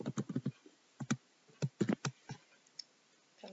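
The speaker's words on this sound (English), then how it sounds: "So we just type this in." Keystrokes on a computer keyboard as a name is typed into an online bibliography form, a few quick bursts of clicking separated by short pauses, close and clear with no talking.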